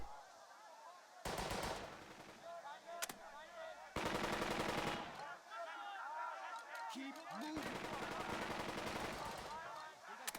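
Machine gun fire in the WW2 game Burden of Command rings out in several loud, dense automatic bursts, separated by quieter battle ambience, while a voice talks throughout.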